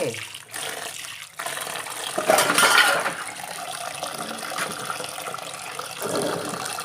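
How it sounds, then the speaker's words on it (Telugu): Water splashes and pours over amaranth greens being washed to remove sand, a steady running-water wash that swells briefly in the middle before settling back, close and moderately loud with no talking. "తోటకూర కూడా వాటర్ పోసుకుంటే కొంచెం ఇసుక అది ఉన్నా పోతుందండి"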